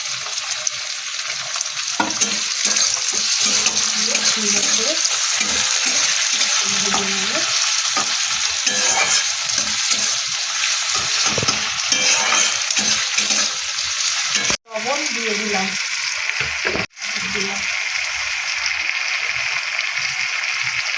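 Chopped ginger sizzles and fries in hot oil for a dal tadka, a steady loud crackle over scraping stirring strokes that runs for about twenty seconds, broken by two brief cuts.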